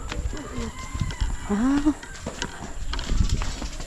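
Outdoor farmyard scene with a duck's quacking call rising briefly above a busy background of shuffling, scattered animal noises and murmuring.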